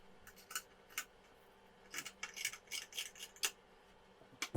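Scissors cut blouse fabric along a curved boat neckline in quick bursts of crisp snips, close but faint, with short pauses between cuts and no talking.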